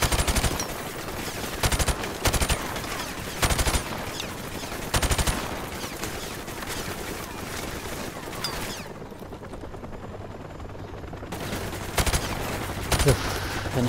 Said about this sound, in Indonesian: Dan helikopternya masih nembakin saya sini.